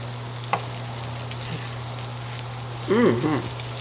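Mushrooms frying in a pan, a steady soft sizzle with a low hum beneath it, a brief clatter of utensils near the end.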